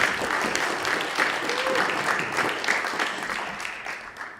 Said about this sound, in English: Round of applause for Carolyn.